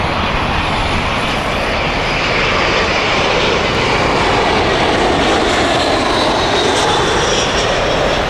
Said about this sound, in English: Berlin flight here, British Airways Airbus A319.